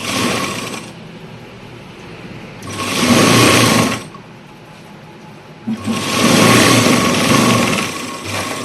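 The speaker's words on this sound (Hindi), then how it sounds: "तो ये हमने सिलाई कंप्लीट कर ली है।" A sewing machine stitches a strip onto a suit in two loud, steady bursts of running, separated by quiet pauses.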